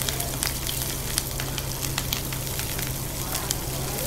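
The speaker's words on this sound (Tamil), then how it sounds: "வெங்காயம் நல்லா வணங்கி வரட்டும்." Onions sautéing in a pan for okra poriyal, a continuous dense sizzle and crackle with small pops throughout, steady and close, with a faint low hum underneath.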